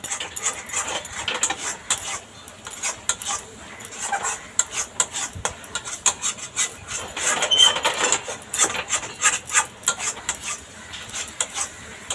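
A utensil scrapes and clinks against a pan while thickening milk for rasmalai is stirred, giving irregular metallic taps and scraping strokes, close and fairly loud, with no talking.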